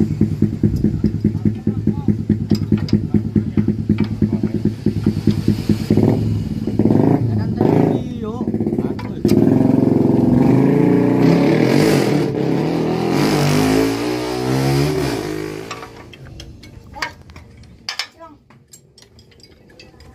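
A Yanmar TF 65 tractor engine, fitted with a whining 'nging' sound, runs with a loud rapid chugging that rises into revving while people talk over it, then fades near the end.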